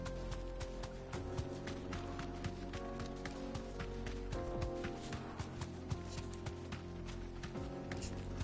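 A chocobo mount in Final Fantasy XVI runs with a quick, even patter of footfalls over a busy game soundscape with music, the rapid steps continuous and moderately loud.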